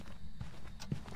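Two close footfalls in the Phasmophobia ghost-hunting game sound as dull thuds over a constant low hum, with a soft shuffle between them.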